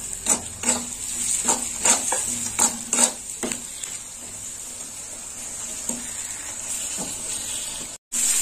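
Chopped tomato goes into a hot pan and sizzles loudly, while a spoon stirs and scrapes in a quick cluster of strokes near the start. The frying hiss carries on alone, with a few more scrapes and a brief cut near the end.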